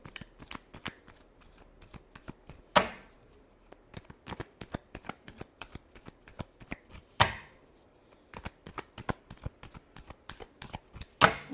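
Tarot cards being shuffled by hand, close and crisp: rapid papery flicks and ticks throughout, with three louder riffle bursts spaced several seconds apart.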